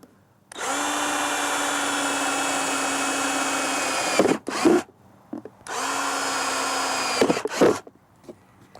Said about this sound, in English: And I'm going to drill a hole at each corner.